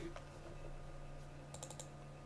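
Keys tapped on a computer keyboard during a Minecraft map install, a short flurry of light clicks clustered together, close and fairly quiet, with no talking.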